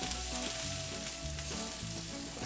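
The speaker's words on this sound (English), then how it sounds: "Put in your onions and your carrots and stir fry that until the onions are tender." Onions and carrots stir frying in oil for a cocoa spiced beef stir fry, with a soft, steady sizzle alongside a low rhythmic stirring rumble and a faint persistent hum.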